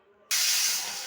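A pressure cooker whistle bursts into a sudden loud, sustained hiss of releasing steam in a kitchen where dal with green chillies is cooking, starting abruptly after a quiet moment and holding steady.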